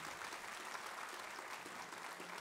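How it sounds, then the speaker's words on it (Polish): An audience at an artistic benefit concert for Edek Sikora gives him a round of applause, a soft, distant, even patter of many hands clapping without pause. "Jeszcze raz, gromkie brawa"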